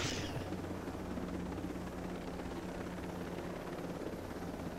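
Helicopter in the Ghost Recon Breakpoint video game, a steady loud rotor drone with a low rhythmic thump that holds constant throughout, no voices.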